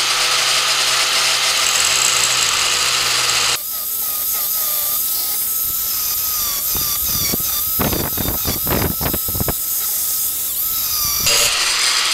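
A power tool cuts into a gear from a UAZ Patriot transfer case with a loud, piercing high-pitched whine and squeal, broken by a burst of harsh grinding bites midway.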